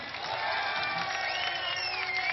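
A large audience claps and cheers at a political speech, a steady, loud roar of applause with whoops rising over it, sustained without a break throughout.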